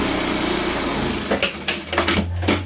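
Sewing machine running steadily on folded old jeans denim to make a pot holder, a continuous buzzing motor whir with brief stops and restarts near the end, close and fairly loud with no talking.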